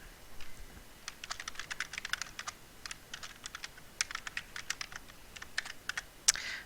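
Keys clack on a computer keyboard in quick, uneven bursts with short pauses between runs, close by and fairly quiet, and no voices.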